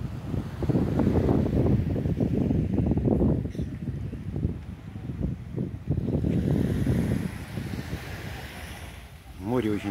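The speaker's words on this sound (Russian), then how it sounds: "Море очень спокойное." Gentle sea waves wash onto a calm beach at Juan Dolio, a soft repeated surge and retreat heard close, with wind buffeting the microphone.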